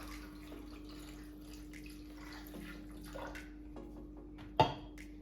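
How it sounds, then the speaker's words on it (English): Water poured into a breadfruit punch mixture, a faint steady trickle and splash under a low hum, ending with a short sharp clink near the end. "we're gonna go ahead and add some water"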